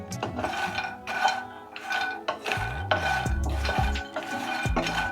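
Makhana (fox nuts) being roasted in a pan, a spoon stirring and scraping with rhythmic clinks and rattles of the dry puffs against the metal, close and steady, with no talking.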